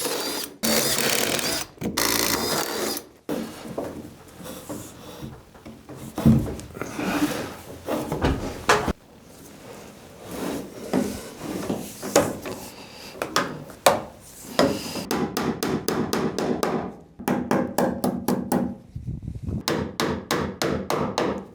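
Sharp staple gun shots inside a boat cabin under construction, fired in quick rhythmic bursts with pauses between runs, loud and close, mixed with handling knocks and clatter.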